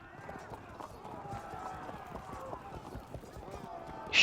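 Light javelin horse cavalry moving in the Field of Glory 2 video game makes fast, continuous clip-clop hoofbeats of running horses at moderate level, ending in a brief sharp burst.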